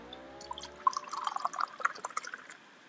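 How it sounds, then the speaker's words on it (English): Jack Daniel's whiskey and seltzer is poured into a highball glass, a soft liquid stream followed by crackling bubbly fizz that grows denser and then fades, close and quiet with no talk. "Now that's some good fizz there."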